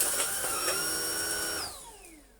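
A Shark IC160 DuoClean cordless vacuum runs on carpet with its suction set to low, giving a close, steady whine and hum that continues on its own and then winds down near the end.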